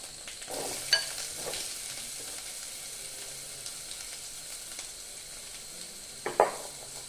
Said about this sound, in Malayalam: ഇനി നമ്മൾ കഴുകി വെച്ച വെളുത്തുള്ളി അതുകൂടി ചെറുതായിട്ടൊന്ന് മൂത്ത് വരയ്ക്കാം